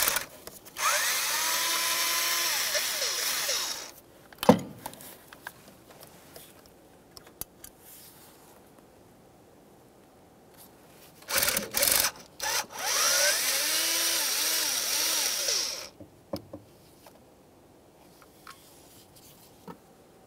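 A power screwdriver whirs in two bursts removing two T15 Torx screws from a distributor rotor on a 1999-2006 Chevrolet Silverado 1500 4.3L, with clicks and handling noises between runs.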